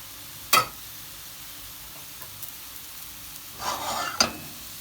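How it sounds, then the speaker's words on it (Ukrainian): Pancakes (mlyntsi) frying in a pan give a faint low sizzle, broken by a couple of sharp scrapes or taps of a utensil against the pan. "Так, друзі, допікаю я млинчики."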